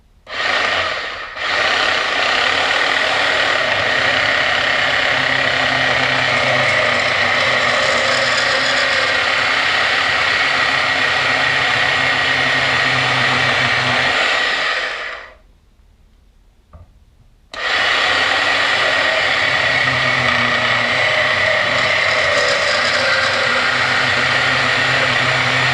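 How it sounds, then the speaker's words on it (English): A Bauer 10 amp Harbor Freight band saw cuts through metal under its own weight, giving a loud, steady mechanical whine and grinding with a brief pause midway before the cutting resumes. "I'm gonna let the weight of the bandsaw do the cutting"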